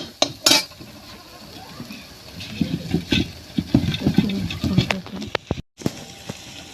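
Onions and chilies fry in a pan on a village kitchen stove, with a steady sizzle under repeated scraping and clinking of a stirring spoon against the metal.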